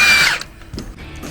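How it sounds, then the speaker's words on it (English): A hefty Milwaukee power tool gun whines in a short high burst while removing parts from a Club Car Tempo golf cart, then cuts off, leaving faint clunks of parts. "That hefty gun of yours. Only Milwaukee will do."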